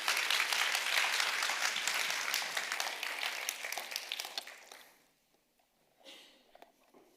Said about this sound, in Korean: 우리 뜨거운 박수로 환영하도록 하겠습니다.